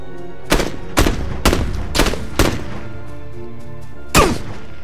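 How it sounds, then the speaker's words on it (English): Gunfire in the video game PUBG, six loud, sharp shots spaced roughly half a second apart with a longer gap before the last, each with a short ringing tail, no talking. "Who's that shooting?"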